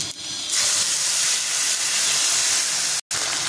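Pieces of fish fry in hot oil until reddish, producing a loud, close, steady hiss and sizzle that briefly cuts out near the end, with no talking.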